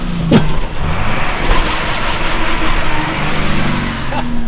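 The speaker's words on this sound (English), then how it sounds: "Watch the tires just to verify that we actually spin them." Truck burnout during a leaf spring test, with a continuous loud roaring engine and spinning tires that hold steady for several seconds and sit close to the listener.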